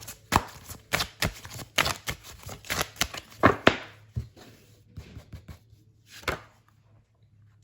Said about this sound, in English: Why am I shuffling the same deck again?